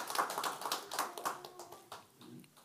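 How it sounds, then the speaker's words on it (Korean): A church congregation claps together after a prayer at a Parents' Sunday worship service, a dense run of overlapping hand claps that tapers off over about three seconds. "박수하겠습니다."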